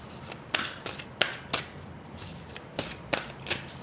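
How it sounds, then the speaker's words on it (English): A Black Moon Astrology tarot deck being shuffled by hand, with brisk riffling bursts and sharp card snaps in an irregular rhythm, close and clear with no voices. "let's get a card from the Black Moon Astrology deck for you, Aquarius."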